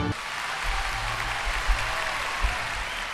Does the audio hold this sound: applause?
yes